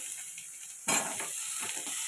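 Chopped onion, garlic, ginger and chili hit a hot pan with a sudden sizzle that keeps hissing steadily, close and fairly loud, with no talking.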